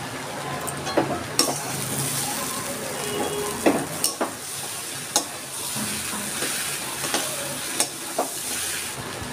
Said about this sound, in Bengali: এবার আমি ভাজা আলুটাও দিয়ে দিচ্ছি।